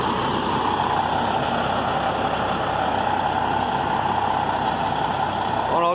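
A semi truck's engine runs steadily close by in a workshop where the truck is being painted, with an air compressor droning alongside it as a constant, loud, unbroken mix of low engine rumble and mechanical hum.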